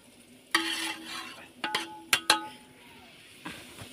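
Green chilli dropped into hot oil for a tempering gives a short hissing sizzle burst, then a few sharp clinks of a spoon against the pan over a quiet, steady background.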